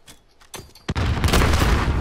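A grenade blast in Call of Duty Modern Warfare during a 3v3 Gunfight match: a couple of short thumps, then a sudden loud explosion whose roar and rumble hold steady to the end.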